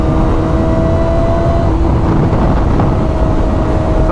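A Kawasaki ZX4RR sport motorcycle engine screams at high revs toward redline while riding, a loud sustained whine buried in heavy wind roar.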